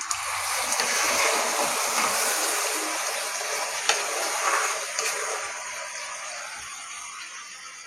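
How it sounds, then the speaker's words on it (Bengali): Water poured into a pot of fried rice for hilsa pulao sets off a loud, steady hiss and sizzle that holds for several seconds, with a few small pops and splashes before slowly settling down. "এরপর দিয়ে দিচ্ছি পানি।"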